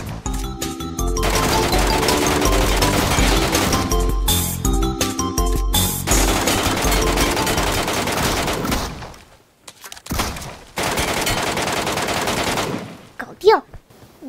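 Automatic weapons fire in the Metro escape mode of a shooter game: long, dense, loud bursts of rapid gunfire that cut out briefly near the middle, then return in shorter bursts with gaps.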